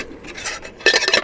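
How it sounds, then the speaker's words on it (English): Metal pots and lids from a camping cook kit clink and rattle as they are handled, near and fairly loud, with a quieter stretch before a burst of bright clattering. "Comes with a larger pot, a pot for frying things maybe, a lid for both, some cups, and a kettle"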